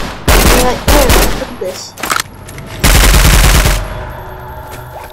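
Automatic gunfire from a gun in the Roblox game Contact A-888, heard as loud, close bursts of rapid shots with short pauses between them, while someone talks briefly over the shooting.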